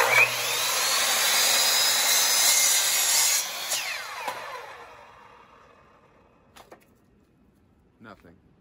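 A hand saw cuts through a dead LiPo battery with steady, loud, raspy strokes that fade out over several seconds. A few faint clicks and knocks follow.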